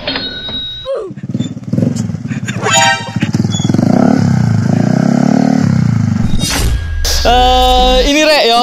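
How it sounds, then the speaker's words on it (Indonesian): Motorcycle ridden on a road to a workshop, engine droning loud and close with revs rising and falling, a horn honk near the end, and a voice talking briefly over the engine. "Naik sepeda motor."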